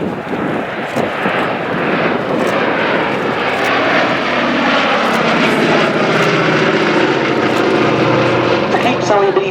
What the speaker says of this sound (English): operating a four-engined heavy bomber such as this is a very expensive undertaking indeed